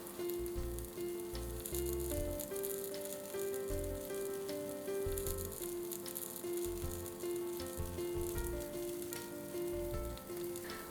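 Paneer tikka on skewers sizzles steadily while it cooks on each side. The sizzle sits under rhythmic rattling and a tonal, music-like background.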